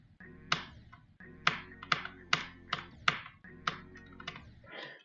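Crisp mouse or keyboard clicks during video game play, close and fairly loud, arriving in irregular clusters of sharp taps with short gaps between them.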